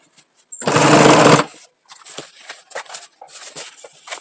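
A sewing machine stitching a rug made from fabric scraps runs in one loud, close burst of just under a second, followed by quieter scattered handling noises.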